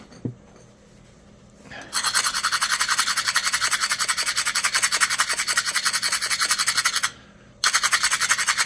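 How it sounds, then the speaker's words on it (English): Grinding down the edge of a flintknapped stone knife, a loud rapid rasping scrape in steady strokes that starts after a quiet opening, pauses briefly, then resumes, close up. "I have to grind that down more than that."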